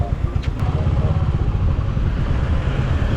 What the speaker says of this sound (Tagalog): First time ko makadrive ng 350cc na bike